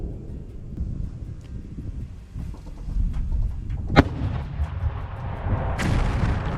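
A single sharp distant boom of an artillery shell exploding in tree branches cracks out over steady wind and rumbling outdoor noise, followed by a further burst of noise.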